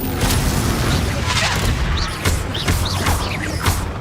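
Confringo blasting-spell explosions in Hogwarts Legacy: repeated booming bursts and sharp crashes amid a dense, continuous din of spell effects, several impacts spaced across the span, loud and close, with a voice faintly under the mix.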